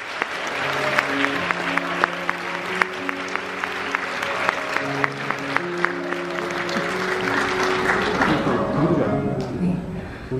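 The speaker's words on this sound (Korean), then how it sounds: "내빈 여러분, 저와 함께 이 두 사람 큰 박수로 축복해 주시기 바랍니다." Wedding guests in a convention hall break into steady, loud applause for the newly married couple, sustained clapping from a sizable crowd while music plays over it and a voice comes through briefly.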